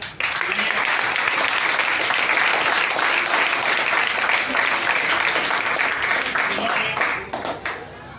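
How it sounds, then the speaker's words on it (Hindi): Loud, sustained applause from a large audience honoring women on Women's Day at a school farewell ceremony, dense steady clapping for about eight seconds before fading at the end. "मैं चाहता हूं एक बार उन सभी महिलाओं के लिए जोरदार तालियां"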